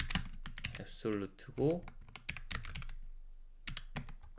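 Rapid clicking keystrokes on a computer keyboard while code is typed, a dense run of sharp taps close by, mixed with someone speaking Korean.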